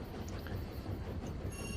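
A train from the game Tiny Rails rolls along with a steady low rumble and faint wheel clatter, moderately quiet and continuous, with no voices over it.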